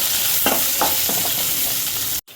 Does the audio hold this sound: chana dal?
yes